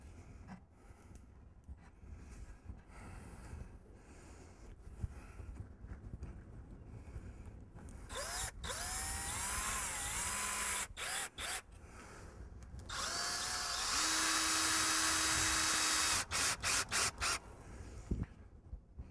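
A power drill drives screws to toenail a 2x4 while a hoop pen's back and corner braces are built, whirring in several loud bursts that rise in pitch and stop abruptly, separated by scraping and handling noises.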